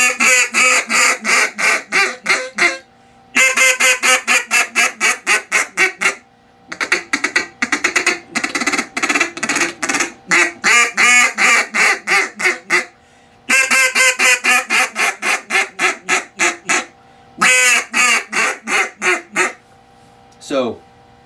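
Duck Commander 2.0 double-reed duck call blown in rapid series of raspy, nasal quacks, loud and close, in several bursts separated by brief pauses.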